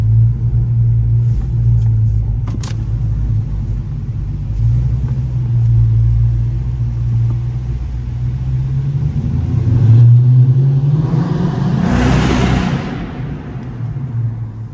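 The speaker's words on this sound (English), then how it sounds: "For the exhaust on this car, man, even stock, like I do have a full catback" A Dodge Charger R/T V8 with a full catback exhaust idles with a deep, steady rumble, then revs up in a rising roar before settling back down, loud and close.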